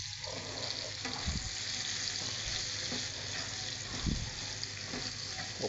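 Chicken breast and mushrooms sizzle steadily in a hot pan as they are stirred, with soft scraping and bubbling bursts rising now and then over a continuous close frying hiss.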